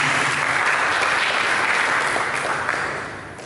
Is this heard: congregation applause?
yes